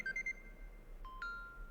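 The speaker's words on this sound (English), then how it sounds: "immediately I will get a notification with loud alarm notification like this." A short electronic alert from a taxi booking app chimes a few rapid beeps, then two rising tones sound, clear and fairly faint against a quiet background.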